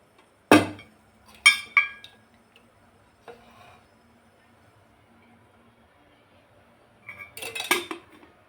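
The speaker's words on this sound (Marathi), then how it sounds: "आता गॅसवर कढई ठेवून घेऊ। कढईमध्ये तेल टाकून घ्यायचं आहे।" A wok is set down on a gas stove with a loud metallic clank, followed by a couple of sharper knocks, then quiet; at the end comes a brief burst of clinking and liquid splashing as oil is poured in.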